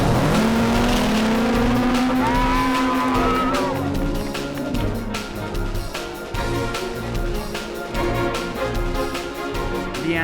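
Race cars circuit a track at a speed festival, engines roaring loud and close, with a rising-and-falling whine as one passes, then a sustained busy motor drone.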